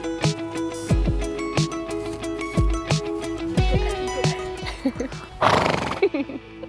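A year-old foal neighs several times in short, shrill whinnies, with hooves clip-clopping close by and a brief rustling burst near the end.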